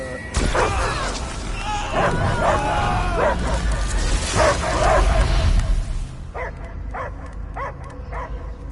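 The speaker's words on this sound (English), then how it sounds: "I hear only barking." A dog barks and yips in loud bursts, with some whimpering and a booming thump, while voices talk over it; later a few sharper, separate barks ring out more clearly near the end.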